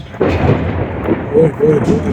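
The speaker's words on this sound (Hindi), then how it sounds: "सुना दोस्तों आप लोगों ने ये बादलों की गनगरज?" Thunder rumbling from rain clouds during the first rain of a hot summer, a deep sustained roll that swells and fades across the whole moment, loud and near, with faint other noises mixed in.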